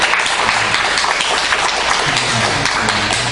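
A church congregation claps together in a sustained, dense round of applause that holds at an even level throughout.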